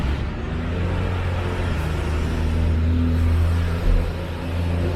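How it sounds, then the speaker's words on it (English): A school bus rolling past near a hotel, a deep steady engine rumble with low droning tones, heavy throughout with a brief bump in loudness near the end. "There's a school bus at the hotel."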